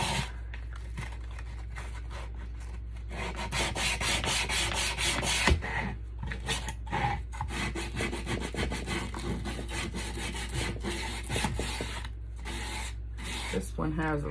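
A wooden kitchen riser is hand-sanded with 100 grit sandpaper to smooth down a protruding piece, giving steady back-and-forth scratchy rubbing strokes close up, in a repeated rhythm with short pauses.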